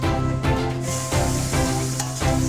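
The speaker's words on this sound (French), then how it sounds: "Donc on met un petit peu d'huile, le feu très fort et on va faire flamber au cognac." Chicken and aromatic vegetables sizzle loudly in a little hot oil over very high heat before a cognac flambé, a steady crackling fry with a few stirring bursts.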